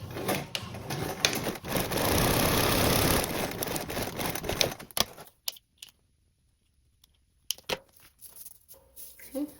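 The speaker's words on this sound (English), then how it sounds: "Now top stitch down the other side." A sewing machine top stitches along the side of a tote bag, running in one steady, rapid burst for several seconds, then stopping and restarting in short stitches separated by quiet pauses.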